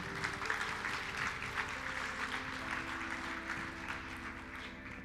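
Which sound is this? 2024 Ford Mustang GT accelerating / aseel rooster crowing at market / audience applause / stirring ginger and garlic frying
audience applause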